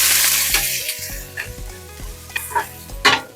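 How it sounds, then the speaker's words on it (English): Chopped onion sizzles in hot oil in a pot, a steady close frying hiss broken by the scrape and clink of stirring, with faint background tones and no speech. "So now we're gonna cook the onion."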